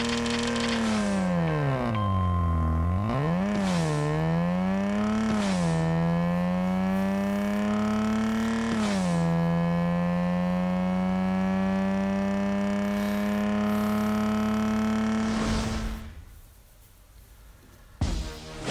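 A 1991 Mazda RX-7 rotary engine in the Racing Rivals racing game buzzes in a high, smooth whine that rises and drops through several quick gear shifts, then holds a long steady pitch before cutting off near the end.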